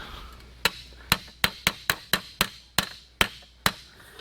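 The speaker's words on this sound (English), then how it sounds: "Well, we're using a hammer. Just trying to get that sort of kind of flat." Sharp metallic hammer blows flatten a buckled metal collar on a Coleman 500A lantern, about a dozen close strikes in an uneven but steady rhythm with brief ringing decay between them and no talking.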